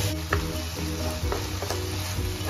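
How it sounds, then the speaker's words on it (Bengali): Chicken frying in a pan for Thai Pad Krapow Gai, a steady close sizzle with occasional stirring scrapes and no talking. "মোটামুটি আমার চিকেন কিন্তু মোটামুটি এক প্রকার ফ্রাই হয়ে গেছে"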